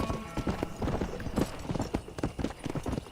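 Rhythmic clip-clop of a galloping horse in the video game Red Dead Redemption, steady hoofbeats up close, with faint game sounds behind.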